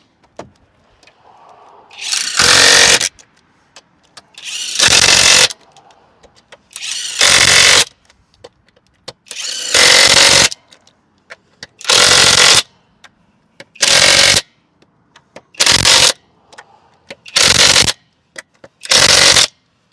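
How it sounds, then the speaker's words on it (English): A SNUOK 1838 1/2 inch cordless impact wrench tightens lug nuts in ten loud, close hammering bursts of about a second each, separated by short quiet gaps with faint handling noise. "let's tighten these lug nuts down"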